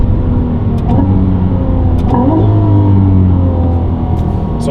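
A Novitec-tuned Ferrari 296 GTB supercar makes a steady, close engine and exhaust drone throughout, with brief rises in pitch and no talk.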